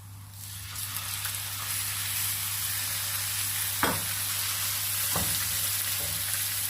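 Chicken frying in a pan with chopped garlic for white sauce pasta gives a steady, moderate sizzle, with a couple of sharp utensil knocks near the end and a low constant hum beneath.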